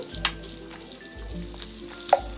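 Eggs fry in a pan with turmeric and chili, giving a close, continuous sizzle with a few sharper crackles and clicks, no talking.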